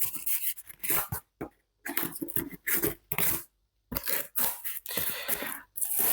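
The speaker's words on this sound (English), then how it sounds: "we're just going to finish cutting through this card here" Rough, scraping cuts through card, coming in bursts with short pauses between strokes, close and fairly loud with no talking.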